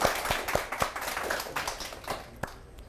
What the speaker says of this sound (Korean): 선생님께 큰 박수 다시 한번 부탁드립니다